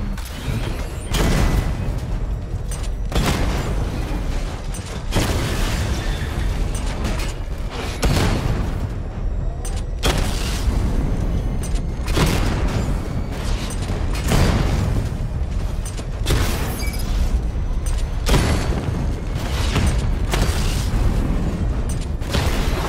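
Batman Arkham Knight missile barrage explosions boom continuously, loud and close, with repeated heavy blasts and mechanical bursts pounding in quick succession over a sustained rumble.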